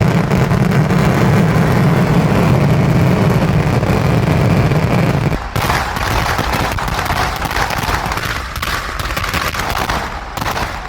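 Dense, continuous crackling and popping bursts of festival fireworks in Kavassery fill the air, loud and sustained, with the low rumble dropping away partway through.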